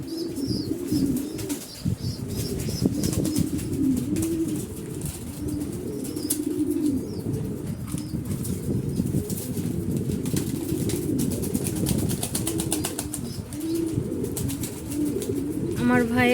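Pigeon chicks beg their mother for food at a home loft, a close, steady stream of low cooing and whiny calls with bursts of wing flapping throughout, while a person talks over them.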